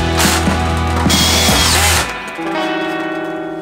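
A power drill drives screws into SCG wood-look siding boards in a minimal beech colour, giving a loud, strained whirring burst with rising and falling pitch, then a steadier hum as it eases off.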